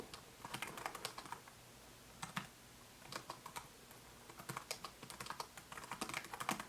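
Keys clatter on a Snugg Folio keyboard case for an iPad Mini, typed in short, quick bursts of soft clicks with brief pauses between them, close up and with no talking.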